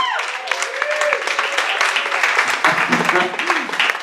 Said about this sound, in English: You can clap a little bit more for her when we sing.